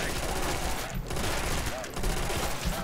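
Sustained automatic fire from a light machine gun (MG) in a Custom Zombies map, rapid continuous bursts packed closely together with only a brief break near the one-second mark.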